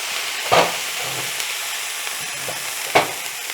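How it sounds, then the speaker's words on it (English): Bourbon hits a hot pan after shallots for a steak au poivre peppercorn sauce, producing a steady close sizzle and hiss with two brief louder bursts as the pan is swirled. "I'm going to go in with the liquor. I'm using a bourbon. This is called deglazing. I'm going to go in there, deglaze the pan,"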